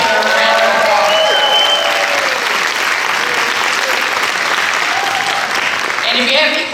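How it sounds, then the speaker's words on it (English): Loud, close audience applause fills the room for several seconds, a dense sustained clapping from a school event crowd, with voices and cheers mixed in and a short drop near the end. "Please stand up and let's give her a round of applause."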